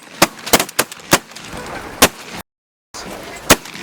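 Shotgun blasts fired at a flock of geese on an Ontario goose hunt, a quick run of sharp reports followed by two more spaced shots, loud and close, with brief silence in between.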